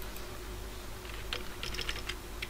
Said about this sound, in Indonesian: kita ketikkan username-nya yaitu